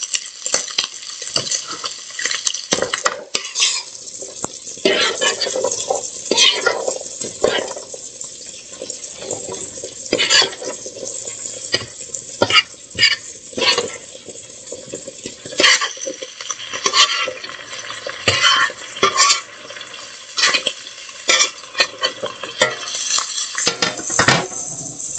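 Potatoes and carrots are dropped into a pan of browned kielbasa and onions and stirred while they fry. A utensil clatters and scrapes against the metal pan again and again, with frequent clinks and a soft sizzle underneath, and no talking.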